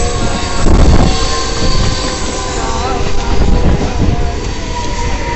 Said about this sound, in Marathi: बघा कशा ट्रेन येत आहेत जात आहेत.